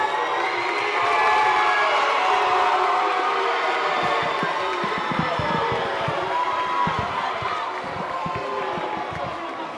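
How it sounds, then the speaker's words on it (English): A large school theatre audience cheers and claps loudly and continuously, with shouts and whoops rising over sustained applause. "Shall we give them a round of applause?"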